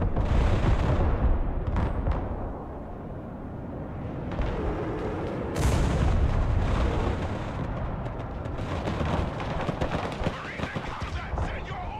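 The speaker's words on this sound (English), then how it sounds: "Artillery ready to fire, sir." Heavy artillery fire rolls across a battlefield in the strategy game Broken Arrow, dense booming blasts and rumbling explosions overlapping continuously with a sharp loud burst midway, while a voice is heard underneath.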